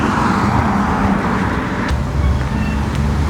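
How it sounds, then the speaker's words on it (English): Road traffic roars continuously at a street crossing, a loud, dense wash of passing car and vehicle engine and tire noise close to the microphone with no talking. "there's a lot of traffic here with the sound effects"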